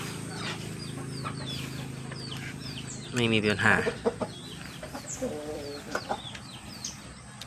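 Burmese chickens cluck and chatter nearby, with a louder burst of squawking midway, while someone talks over the birds.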